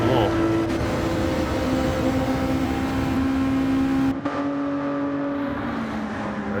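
A race car engine in Gran Turismo 7 accelerates hard down a straight during an online race. The loud, sustained, whining engine tone climbs in pitch, then drops briefly at a gear change before rising again.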